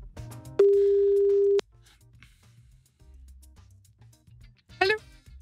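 A telephone line tone sounds during a call to a listener on a live French radio show: one steady tone holds for about a second, then after a quiet gap a short burst of rising beeps follows.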